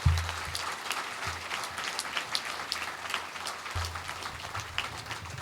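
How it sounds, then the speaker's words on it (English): A Chinese New Year banquet audience applauds honorees of a police Asian Jade Society, steady many-handed clapping in a large room with a few low thumps underneath. "So just give them a round of applause, all our honorees"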